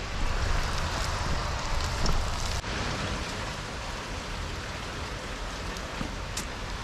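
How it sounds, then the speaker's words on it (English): Steady rain pours down near a lakeside bus stop in Wuhan, a dense continuous hiss of drops on surfaces with a few louder splashes and drips, loud and close, with no voices. "the rain is still steadily coming down"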